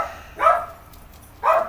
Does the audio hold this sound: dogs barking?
yes